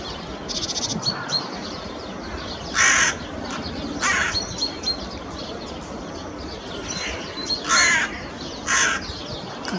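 A crow caws loudly from above in a city centre, giving several separate harsh calls in pairs over steady outdoor background noise.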